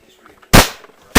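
A Nerf gun firing indoors: a sharp, loud pop of a dart launch, then a second quick pop right after, over a near-silent room.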